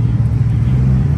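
Deep, steady engine rumble from a Corvette idling nearby at an outdoor car meet, a continuous low drone that holds its level with no revving or voices.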